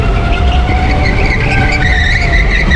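A car drifting and sliding with tires squealing, a loud, sustained, wavering screech over a constant engine roar, close by and with no talking.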